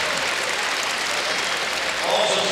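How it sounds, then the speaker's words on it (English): A large crowd claps steadily and continuously at a compound men's archery gold medal match in Las Vegas, a dense wash of applause without talk. "They are applauding the perfection of Mike Schloesser."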